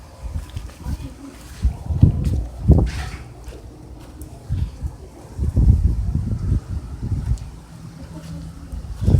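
Gusty wind buffets the microphone outdoors in low rumbling bursts that rise and fall, with a voice talking intermittently through the noise.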